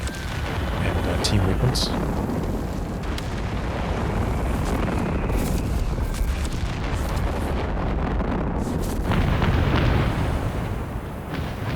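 Off-map artillery strike in Company of Heroes 3, a continuous loud barrage of booming shell explosions and rumbling blasts layered densely over one another, with someone talking briefly over the din.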